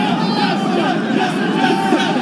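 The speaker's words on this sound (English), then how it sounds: "And you can hear the crowd. The crowd goes wild here." A crowd roaring and cheering in a hall at a Yu-Gi-Oh championship series tournament in Indianapolis, a dense, continuous wash of excited voices and whoops with a person talking over it.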